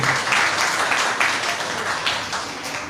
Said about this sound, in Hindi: आइए जोरदार ताली हम प्रभु यीशु को देंगे